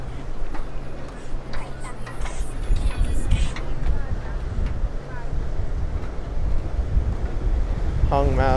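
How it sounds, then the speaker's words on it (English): Ocean waves wash in steadily at South Beach, Miami, under heavy wind buffeting the microphone, with people talking nearby throughout. "To listen to the waves, to watch people go into the ocean."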